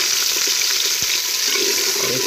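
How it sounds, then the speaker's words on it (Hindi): Finely chopped onion frying in hot oil for a chicken karahi, a steady, dense sizzle and crackle filling the scene, close and continuous with no talking. "अब हमारा ऑयल गरम हो चुका है, हम इसमें प्याज ऐड कर रहे हैं, एक अदद बारीक कटा हुआ प्याज।"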